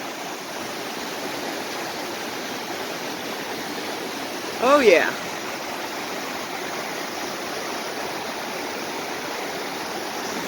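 A fast-moving river rushes in a steady, broad roar close by, with a brief voice speaking over it midway.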